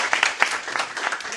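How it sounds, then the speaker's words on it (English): Conference audience applauding at the close of a panel, dense steady clapping throughout with some irregular louder claps, moderately near and with no speech over it. "Well, let's clap."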